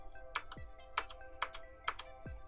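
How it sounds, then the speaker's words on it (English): HyperX Alloy FPS keyboard keys clacking against the steel frame, held close to a microphone: four quick clusters of sharp plastic clicks at a steady pace, each followed by a low thump. "This is the noise the keys make on the steel frame"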